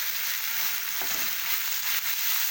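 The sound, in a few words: roasting and stirring koti mira pickle in a pan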